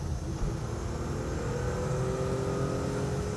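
A Porsche 911 engine drones steadily from inside the car, a continuous hum with a slowly rising pitch as it builds revs, with no talking.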